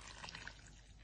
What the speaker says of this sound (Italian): Latte sobbollito e lo andiamo a versare nel contenitore qui.